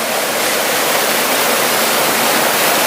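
Steady, dense rush of water from a forest stream among rocks and small trees in the Netarhat hills, heard close up as a constant loud roar with no voices.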